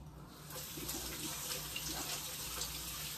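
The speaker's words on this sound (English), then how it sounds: "I'm just gonna rinse my hands." A kitchen faucet runs while hands are rinsed under the stream: a steady, close hiss of splashing water with small shifts in texture as the hands move, continuing throughout without speech.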